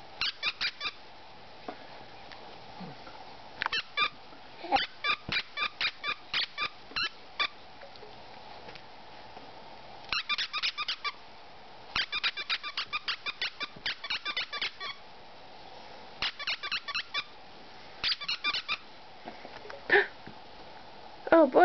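A dog chews a squeaky banana toy, setting off bursts of short, sharp squeaks in rapid clusters with quiet gaps between them, fairly close and clear, while a person speaks softly now and then.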